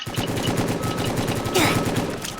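Rapid automatic gunfire from the Roblox-style prison game Prison Life, loud and continuous with a steady rattling rhythm through the whole stretch, with a brief burst of extra noise near the end.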